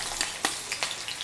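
Finely chopped onions hit hot coconut oil in a kadai, giving a soft, hissing sizzle with a few brief crackles and stirring scrapes, fairly quiet and close.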